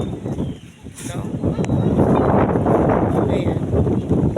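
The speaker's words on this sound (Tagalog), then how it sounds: "Sarap ng hangin dito kasi fresh na fresh yung hangin" Steady wind blows across a seaside fishpond, a broad rushing noise that rises and stays loud through the clip, with a brief dip near the start and a voice speaking over it.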